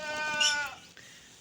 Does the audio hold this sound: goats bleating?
yes